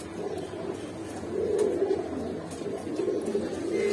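A pigeon at a pigeon shop coos in soft, low repeated phrases, close and clear against quiet background noise.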